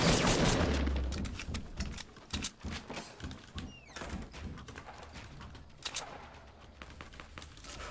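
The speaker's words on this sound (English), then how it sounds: "Shotgun." Shotgun fire in a video game: a rapid run of sharp, loud blasts near the start, then scattered bursts and cracks of gunfire from a hectic firefight.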